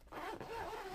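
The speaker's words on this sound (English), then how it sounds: "Zipper works well too, goes all the way around." A zipper is pulled along an accent chair's cushion cover, one close, continuous rasping zip lasting about a second.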